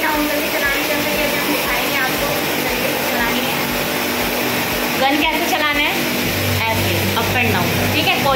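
Spray gun washing a window AC unit during servicing, a loud continuous hiss of pressurized water with a motor hum underneath, steady throughout with a brief surge near the middle.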